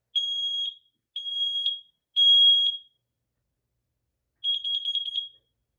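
Kidde wireless smoke alarm sounding during a test: four loud, piercing electronic beeping bursts, the first three steady and the last a rapid stutter, with silence between.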